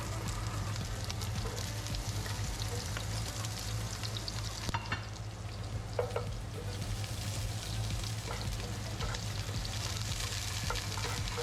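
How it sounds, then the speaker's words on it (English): Green onion and ginger sizzle and crackle steadily in a hot oiled pan, a continuous close frying hiss with a few sharper pops and stirring scrapes partway through. "Put the green onion and the ginger into the pan."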